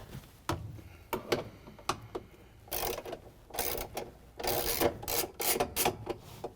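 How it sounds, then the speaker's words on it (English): A ratchet with a 3/8 inch socket and extension turns out the cover bolts of a GE washing machine, giving a series of quiet, uneven clicking bursts in short close-up spurts. "we're going to use the 3/8" socket with a ratchet and an extension to remove the bolts"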